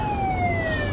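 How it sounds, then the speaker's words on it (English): A police car siren wails steadily with a slowly falling pitch over low traffic rumble, loud and continuous across the short moment. "Oh, there's another police car."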